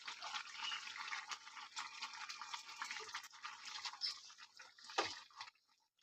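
Spinach and fish-head curry simmering in an open pot, a steady close bubbling hiss with soft pops running throughout, a brief louder clatter near the end before it fades to quiet.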